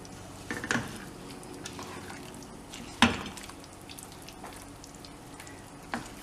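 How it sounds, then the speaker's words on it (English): A spoon stirs chana dal curry in a pan, giving a soft wet simmer with a few sharp scrapes and clacks against the pan spaced a few seconds apart. "Give that a stir around. Mix it well in, but don't cook it again."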